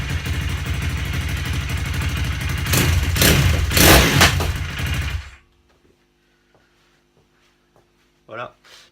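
A kick-started motorcycle engine from a German bike runs at a steady idle, then revs up loudly for a couple of seconds before cutting off abruptly, leaving near silence with a few faint clicks; someone talks over it.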